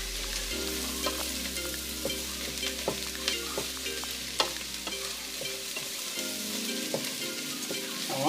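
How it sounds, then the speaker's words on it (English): Garlic sizzles steadily in a hot pan, close by, while a utensil stirs and scrapes with repeated soft clicks and scuffs under the constant frying hiss; no one speaks. "Give that a good stir in, and already the aromas of the garlic are coming through."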